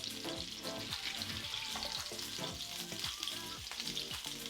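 Salmon searing in an oiled pan, a dense, steady sizzle and crackle with frequent sharp pops and spits, close and constant throughout, with no talking.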